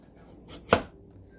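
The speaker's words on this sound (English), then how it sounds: "Chopping" A single sharp chop of a long knife through food on a board lands near the middle, preceded by a softer knock, against a quiet kitchen background.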